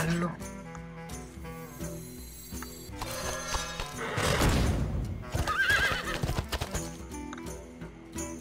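A horse neigh and clip-clop hoof sounds for the chess knight piece in Hearthstone, rising mid-clip over a background of game music, with a short chime after; a voice speaks briefly.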